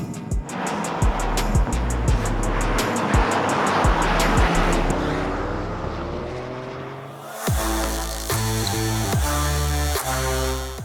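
A Toyota GR Corolla's engine revs and shifts through rising, falling pitch sweeps as it throws a Scandinavian flick on dirt and tarmac, loud and close, with a sharp drop and then a strong steady pull.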